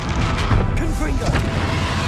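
A Confringo fire spell bursts in Hogwarts Legacy combat, giving a loud booming blast over dense game sound, with brief voice fragments mixed into the noisy stretch.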